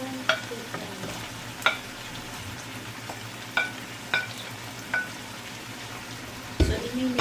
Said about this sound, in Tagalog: So ilalagay na natin yung hipon na ginisa. So ilalagay ko na yung hipon.